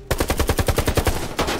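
An automatic weapon in the shooter Warface fires a rapid, evenly spaced burst of about fourteen loud, close shots. The burst lasts just over a second, with no talk over it.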